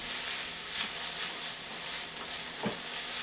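Finely chopped onion sizzles steadily in a hot pan for soup, a continuous bright crackle with a couple of soft stirring knocks, close and alone.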